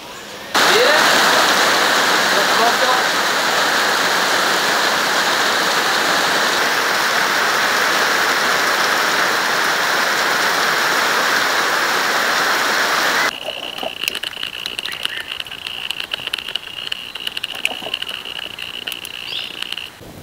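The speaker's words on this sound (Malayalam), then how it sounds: "മഴ കനലിൽ വെള്ളമൊഴിക്കും." Heavy rain pours onto an outdoor charcoal tandoor where mutton is cooking, a dense, steady hiss for about thirteen seconds that then drops to a lighter, scattered patter.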